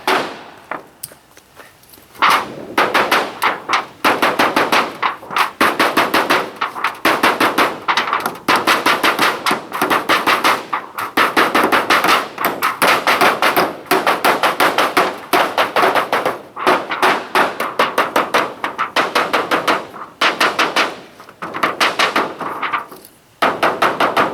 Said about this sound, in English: I'll give you the hammer and nails. I'll go along with the rubber mallet